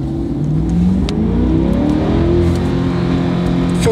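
A Corvette C8 pulls away slowly in reverse, its engine note rising in a steady, continuous hum throughout, loud and close with no talking over it.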